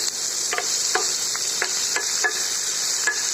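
Onions fry in a pan with a steady, even sizzle, while a spoon scrapes and stirs through them in a few soft, irregular strokes close by.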